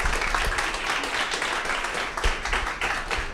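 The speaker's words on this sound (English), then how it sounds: "Let's give him a round of applause." Classroom audience at a photo challenge event applauds a communications guest, a dense, steady wash of many hands clapping at once, fairly loud and sustained throughout.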